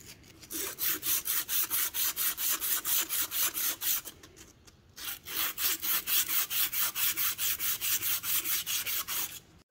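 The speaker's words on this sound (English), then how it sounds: "I did take some emery cloth and just lightly ran over all 4 of these just to keep any of that rust and junk from going through the bore" Emery cloth rubs rust off Caterpillar pony motor block parts in fast, rhythmic back-and-forth strokes, close and scratchy, with a short pause midway before the steady scrubbing resumes.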